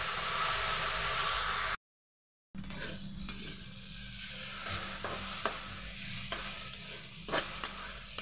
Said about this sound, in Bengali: গ্যাসের ফ্লেমটা আস্তে করে দিলে তলাটা লেগে যাবে না এবং ভাজাটা ধিমে আঁচে খুব ভালোভাবে হবে।